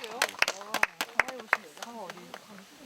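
A handful of sharp, separate hand claps ring out at a community meeting to welcome a professor, spaced about half a second apart and fairly close, while a voice talks between them.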